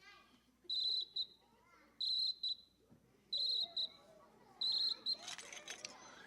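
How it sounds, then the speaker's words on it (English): A Brazilian cricket whistle is blown in four short bursts, each a shrill, cricket-like trill, evenly spaced with quiet gaps, loud and close against a faint background. "This is a cricket whistle, also from Brazil."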